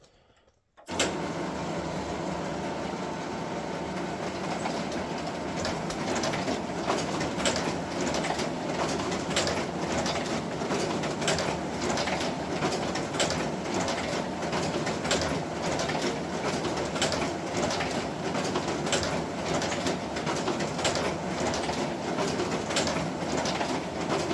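A Quadient DS63 2.5-station folder inserter starts up and runs continuously with a steady mechanical whirring and rhythmic clattering, loud and unbroken throughout.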